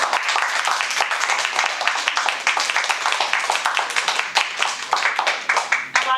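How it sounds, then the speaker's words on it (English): A Toastmasters meeting audience claps for its guests, a room full of brisk, close hand claps forming a lively continuous round of applause that keeps steady energy throughout. "let's have a good round of applause for all of our guests"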